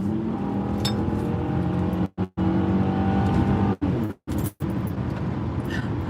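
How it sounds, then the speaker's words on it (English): A car engine roars loud and steady at wide open throttle from inside the cabin, broken by several sharp, abrupt cutouts near the middle before pulling hard again. "my car sounds really good at wide open throttle."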